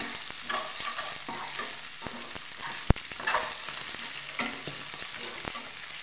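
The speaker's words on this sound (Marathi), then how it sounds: "मस्त व्यवस्थित भाजून घ्यायचं 2 मिनिटं" Potato and fenugreek bhaji stir-fries in a pan: a steady sizzle underlies repeated spatula scrapes and stirs, with one sharp clack of utensil on pan midway, close and moderately quiet.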